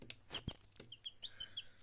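Two small chicks in a home setting give a few short, high peeps and clucky chirps, close and fairly quiet, with brief pauses between calls.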